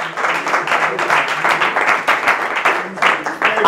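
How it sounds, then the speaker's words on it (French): A crowd at a live show finale applauds the finalists, loud and close, with individual claps audible in the thick, uneven rhythm that carries on throughout. "On peut encore les applaudir très fort."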